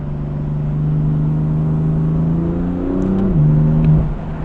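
A BMW M4 engine holds a steady, loud rev with its pitch dipping and climbing near the end, heard up close and alone; the exhaust backfires are not clearly distinct.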